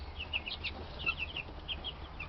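White Leghorn chickens cluck in a quick, scattered series of short, bright calls over a quiet low background, fairly close and with no voices.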